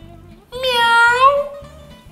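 A man imitates a high-pitched cat meow with a single loud, drawn-out call that bends up and then slides down, close to the listener, between short stretches of low background noise.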